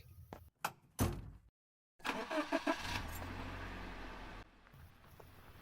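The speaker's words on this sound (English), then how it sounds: "He walks over to his truck, gets inside it, and leaves." Truck door thumps shut, then the engine starts with a few quick turnover bursts and settles into a steady, moderately loud run before cutting away, with another faint knock after.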